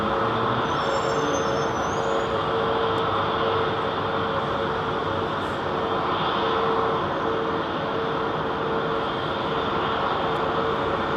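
A British Airways airliner departing London Heathrow Airport at night gives a steady, broad jet-engine roar that holds at even loudness for several seconds, with no talking.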